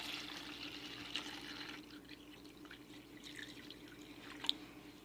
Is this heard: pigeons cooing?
no